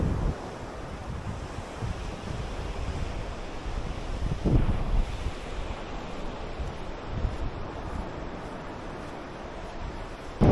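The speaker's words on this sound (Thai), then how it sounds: "ลมเย็นสบายฮะ" Wind and surf at a sea beach in Rayong, Thailand, a continuous broad rushing wash of waves and breeze with a louder swell near the middle, with no voices.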